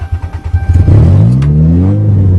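A Toyota GTS engine sputters roughly at first, then revs up loud and close, its pitch climbing and holding in a sustained drone.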